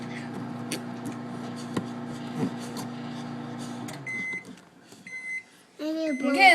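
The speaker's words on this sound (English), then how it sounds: "put it in the microwave. It blows up." A microwave oven running with candy corn inside gives a steady low hum for about four seconds, then stops with a few electronic beeps while people talk and laugh nearby.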